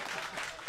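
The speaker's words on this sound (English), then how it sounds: "clap your hands." A crowd at a live fantasy football show claps and applauds, a brief dense burst of many hands clapping together at moderate loudness.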